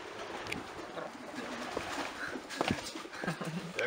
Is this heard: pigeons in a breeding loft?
yes